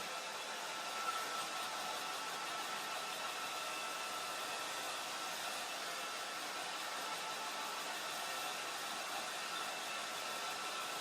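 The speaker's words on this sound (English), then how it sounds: "Maybe you just need to get your own hairdryer" A hair dryer blows steadily for the whole stretch, a constant airy whoosh with an even hum and no pauses.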